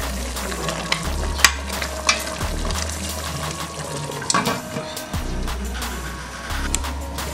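Chicken with spices simmering over the fire for a peanut-sauce mouambe, a steady sizzle and bubbling hiss throughout with occasional soft clinks from the pot, close and continuous.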